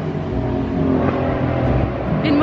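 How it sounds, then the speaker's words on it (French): A motorcycle passes by in a narrow passage on a street in South Korea. A fairly loud, steady motor drone swells slightly and then fades as it goes by, over a continuous background rumble. "Une moto."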